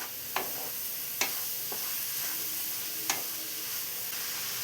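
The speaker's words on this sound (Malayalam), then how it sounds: "ഇതെല്ലാം കൂടെ നന്നായി ഒന്ന് വഴറ്റിയെടുക്കാം." Sliced onions sauté in oil in a pan for a Kerala-style fried prawn biryani masala. A soft, steady sizzle runs throughout, broken by a few sharp clicks of a spoon against the pan.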